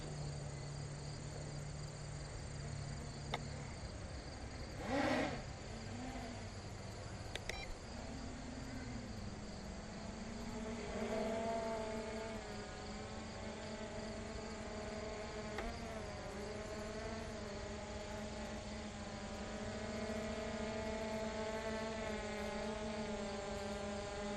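An MJX Bugs 3 quadcopter drone switched to high mode, its propellers giving a steady, thin insect-like whine that rises in pitch as it takes off. It sounds moderately close and continuous, with no talking.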